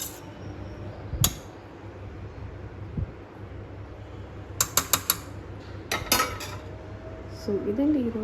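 Dishes and pots being washed up after cooking bagara rice and chicken gravy in a home kitchen, with scattered clinks and clatters of utensils over steady background hiss and running water.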